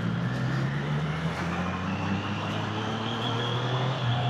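A Triumph Street Triple R motorcycle engine and exhaust drone steadily at moderate volume, a continuous low hum with a faint higher whine, no voices.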